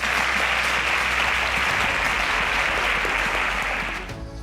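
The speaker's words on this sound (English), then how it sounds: "Round of applause for them." Steady, loud studio audience applause on a quiz show, a dense even roar of many hands that holds for several seconds, then tapers off near the end.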